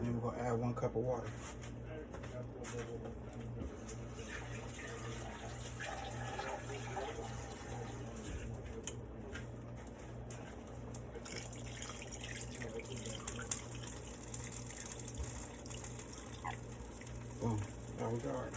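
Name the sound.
water poured into oven dish for cooking rice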